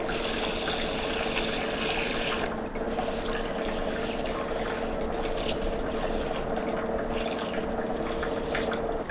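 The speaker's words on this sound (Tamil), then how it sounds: "நான் கம்பை வந்து ஒரு பவுலில் கொட்டி ஊற வச்சு எடுத்துக்கிறேங்க" Water pours and splashes into a bowl of pearl millet set to soak, a loud continuous rush that thins to a lighter trickle and gurgle partway through, close by with no talking.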